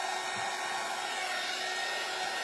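Hair dryer blowing steadily on a craft kit door hanger, a constant close, loud airy whoosh with no pauses.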